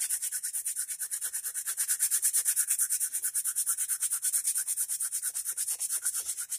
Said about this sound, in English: by sanding the highlights off of it, we're keeping it so that it's not sticking up above the surface